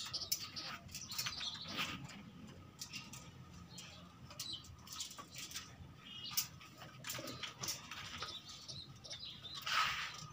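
Flyer pigeons at feeding time give soft scattered chirps and faint coos, with occasional brief wing flaps, at a distance and quiet.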